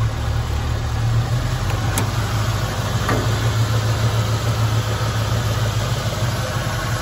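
A 1970 Ford Mustang coupe's stock 302 two-valve V8 idles with a steady, low, even rumble at close range, broken by a couple of faint clicks.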